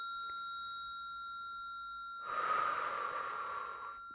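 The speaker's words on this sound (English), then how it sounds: "So if you hear me breathing, feel free to also take that deep breath." A person draws a long, deep breath close to the microphone, a broad airy rush that swells and fades over a couple of seconds after near silence, with a steady faint tone running underneath.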